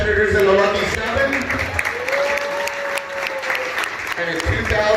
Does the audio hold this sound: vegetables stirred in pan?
no